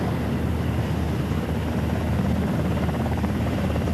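Twin engines and proprotors of a V-22 Osprey tiltrotor aircraft roar in a steady, loud, dense drone with a low rhythmic throb, constant throughout with no voices.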